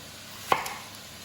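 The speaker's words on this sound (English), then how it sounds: "I'm going to take my knife and I'm going to chop round, just leaving a gap in each one" A single crisp knife chop through an onion on a cutting board, one sharp close tap with a faint second knock, alone in a quiet kitchen.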